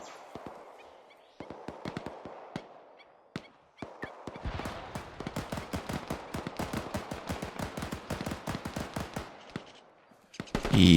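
Machine gun fire in the military shooter game Arma 3, with sparse shots at first building into dense sustained bursts of rapid automatic gunfire, loud and close, with no talk over it.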